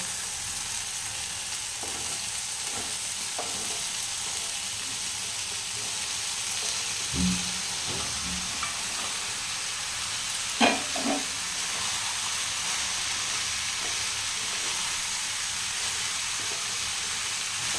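Bottle gourd added to a hot pan for lau chingri fries with a loud, continuous hissing sizzle, broken by a few soft clunks and scrapes of stirring, with no voices.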